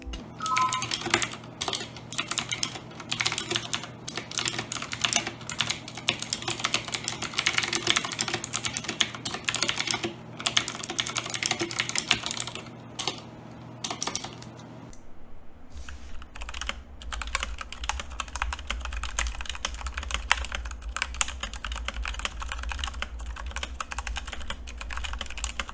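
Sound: typing sound test on mechanical keyboard with clicky switches

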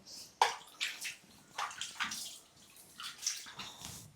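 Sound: water splashing while bathing a baby in lukewarm water

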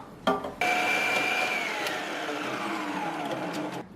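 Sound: Preethi Zodiac mixer grinder slicing vegetables with slicing blade

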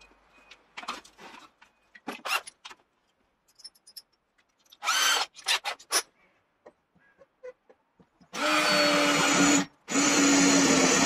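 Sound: power drill drilling holes

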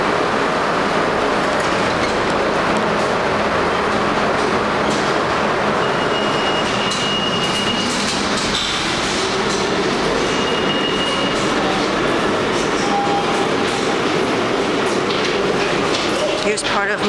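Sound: shuttle train running

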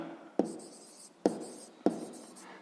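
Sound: writing the answer on paper

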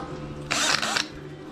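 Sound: worn-out power drill running

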